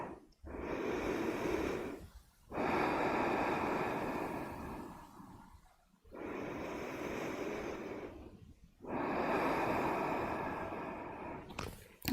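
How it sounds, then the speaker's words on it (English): Four long, deep breaths during a yoga class, each a broad airy rush lasting a couple of seconds with short silent pauses between, close and fairly loud, with no talking over them. "Take big breaths."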